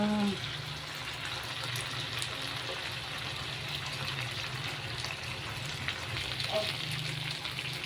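Chicken grilling on a grill pan sizzles and fries in a steady, close hiss that runs unbroken throughout, with faint scrapes and clinks over it.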